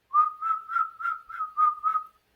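A person whistles an imitation of a northern saw-whet owl call, seven evenly spaced clear toots in quick rhythm, close and alone with no other sound.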